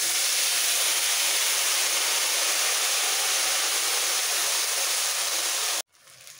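A paste of ground poppy seeds and green chili hits hot fried tempering for a potato and drumstick posto dish, sending up a loud, steady, hissing sizzle that holds evenly for nearly six seconds before cutting off abruptly.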